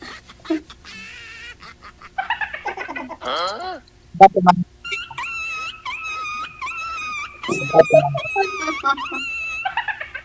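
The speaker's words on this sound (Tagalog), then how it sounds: "May aso pala dyan." A dog whimpers, whines and barks in a few short bursts, mixed with people talking in Filipino and occasional honking, wailing calls.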